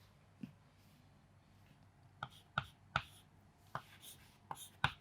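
Chalk tapping and scratching on a board as a classroom definition is written out, a quiet series of sharp clicks and short strokes in an irregular rhythm, close by with no talk.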